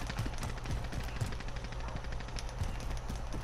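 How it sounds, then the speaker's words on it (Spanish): Rapid bursts of gunfire crackle continuously in the distance, dense and repetitive, automatic weapons in a Call of Duty: Warzone quads battle. "Escucho disparos"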